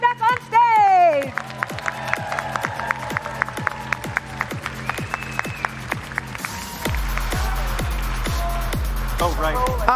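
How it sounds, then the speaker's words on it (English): A crowd at a cosplay contest claps and cheers as contestants return to the stage, with a steady rhythmic beat from loud event music running underneath and a host's voice at the start. "one more big round of applause for everyone you see coming back on stage"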